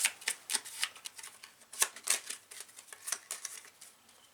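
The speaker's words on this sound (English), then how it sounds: "Go ahead and shuffle up the cards again" Playing cards being shuffled at a tabletop board game session, a quiet series of crisp riffling flicks and soft paper snaps in an irregular patter, close and alone.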